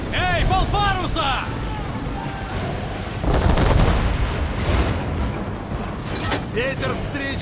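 Cannons boom across a naval battle in Assassin's Creed III, with loud, rolling blasts amid wind and sea noise while a voice shouts over the action.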